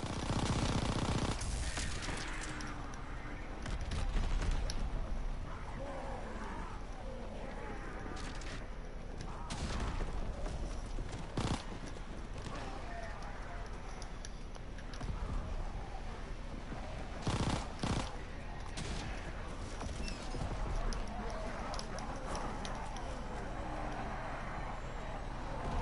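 Rapid bursts of machine-gun fire and gunshots in a World War 2 zombies video game, sustained and dense throughout, with sharp loud volleys standing out over a steady clatter of combat noise.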